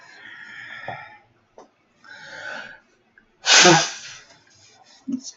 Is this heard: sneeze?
yes